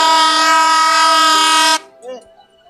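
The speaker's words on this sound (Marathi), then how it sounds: "तर हा साला हॉर्न देतोय मागून" A loud, sustained vehicle horn blares from behind for nearly two seconds before cutting off, leaving a brief murmur of voices.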